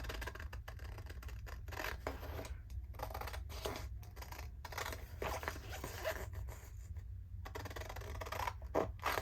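Scissors cut steadily through a dried, slightly tacky glossy magazine page, giving continuous close snipping and scraping with brief pauses between strokes, no talk.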